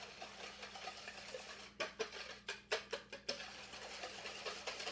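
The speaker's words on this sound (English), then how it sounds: "Now I want to whisk this." Coleslaw dressing made with mayonnaise is whisked in a bowl, a faint scraping rhythm with a burst of about six quicker strokes in the middle over a low background hum.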